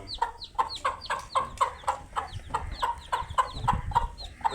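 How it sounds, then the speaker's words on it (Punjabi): An agitated hen near her small chicks gives a quick, steady series of sharp clucks at close range, fairly soft in level, with a low background rustle and no speech. "ਤੇ ਕੁਕੜੀ ਗੁੱਸੇ ਵਾਲੀ ਬਹੁਤ ਏ"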